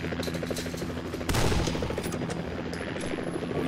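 Rapid, clattering gunfire in the horror game Condemned: Criminal Origins, with a heavier blast partway through over a busy, rumbling background, brief and fairly close.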